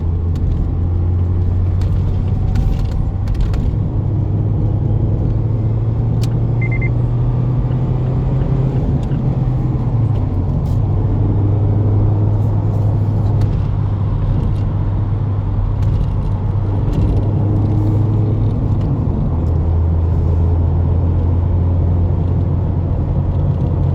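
A red 2020 Mazda MX-5 Miata drives along a road, its engine a steady, loud rumble throughout, with the pitch shifting slightly as it changes speed.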